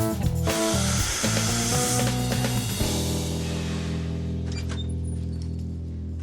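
Motorcycle exhaust pipe being ground on a sander in a chopper shop: a loud grinding rasp with shifting tones for the first few seconds, then a steady humming motor spin-down as the pipe comes off.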